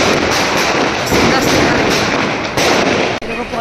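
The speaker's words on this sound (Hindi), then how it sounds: "इतने पटाखे फूट रहे हैं जबरदस्त" Diwali firecrackers bursting continuously in a residential neighborhood, a loud, dense, unbroken crackle and roar of overlapping pops filling the whole stretch, with one brief dip near the end.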